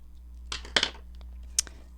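Paper scissors snip through lace in a couple of short, crisp cuts close by, with a faint steady hum in the background.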